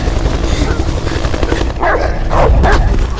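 Dog in the Beyond: Two Souls video game, a few loud barks in the second half over a continuous background of game noise.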